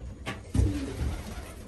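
Racing pigeons in a loft during molting season coo in a short, close, throaty burst, with a fainter rumble of other birds and soft rustling around it.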